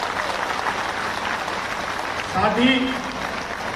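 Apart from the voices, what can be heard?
audience applause welcoming Dr. Mohan Yadav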